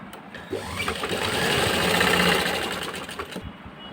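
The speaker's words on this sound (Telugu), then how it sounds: "సో దీనికి డబల్ స్టిచ్ చేద్దాము" Sewing machine double-stitching a handbag, running in a steady continuous whir that swells in the middle and eases off toward the end, close and alone.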